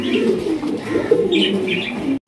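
Fancy magpie pigeons, a large-sized pair, cooing steadily close by in a loft, with soft overlapping low coos and a few brighter chirps, ending in a sudden brief cutoff.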